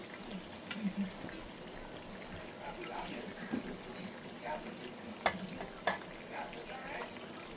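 Raw hilsa fish going into a pan for hilsa pulao, heard as a steady close sizzle and bubbling with light stirring clinks and a few sharp taps, no talk.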